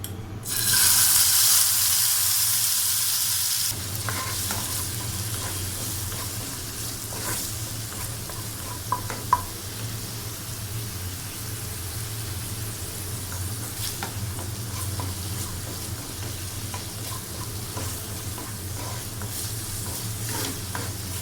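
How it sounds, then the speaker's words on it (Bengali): Marinated chicken dropped into hot leftover oil in a pan, starting with a loud burst of sizzle that then settles into a steady, close frying crackle with occasional stirring clicks. "বাকি তেলটার ভেতর মেরিনেট করা চিকেনটা দিয়ে দিচ্ছি"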